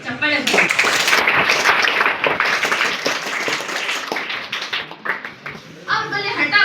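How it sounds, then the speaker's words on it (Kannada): Loud applause fills a government high school hall during the reading of the annual report, dense clapping from a large crowd that swells quickly, holds for several seconds, then fades under a voice. "ಜೋರಾಗಿ ಚಪ್ಪಾಳೆ."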